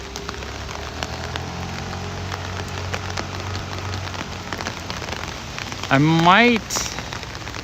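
Steady rain falls around a person walking outdoors, a close, continuous hiss and patter throughout, with a few brief spoken words and a short sharp sound near the end.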